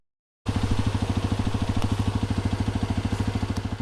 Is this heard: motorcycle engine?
yes